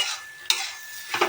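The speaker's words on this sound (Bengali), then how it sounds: "আর এটাকে নাড়াচাড়া করে দেবো" Green chili mixture being stirred in a pan, with a soft sizzle and a couple of scraping strokes over a short span, no voices.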